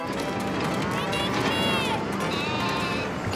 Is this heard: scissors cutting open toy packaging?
no